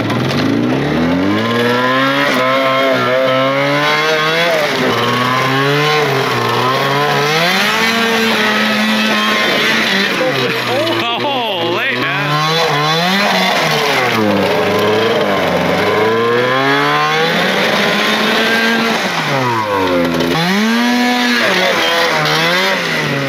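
An old beater snowmobile engine running on choke revs loudly and continuously, its pitch swooping up and down in repeated surges of throttle.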